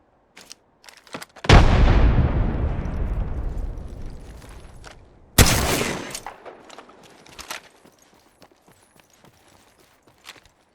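Two loud, close explosions from a frag grenade attack in the Apex Legends video game, each a sharp blast that fades into a long rumbling decay, with faint clicks and game sounds between them.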